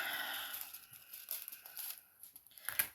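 A short strip of sticky tape is pulled and torn off close by, crinkling sharply with a final quick rip near the end.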